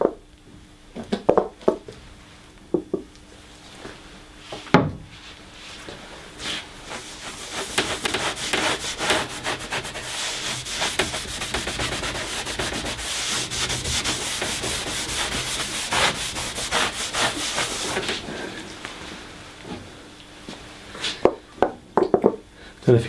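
A stockinette cloth charged with liquid beeswax is rubbed back and forth over a wooden surface, giving a continuous scratchy, swishing friction with small snags. Intermittent knocks and handling bumps come at the start and end.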